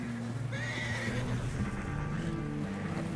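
A horse in Red Dead Redemption 2 lets out a loud, close neigh, with a rising whinny over low breathing and shuffling, amid game ambience.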